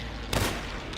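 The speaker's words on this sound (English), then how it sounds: "Shoot now!" A single loud gunshot in The Da Vinci Code on PS2, one sharp blast followed by a fainter echo over a steady background hum, with no talking.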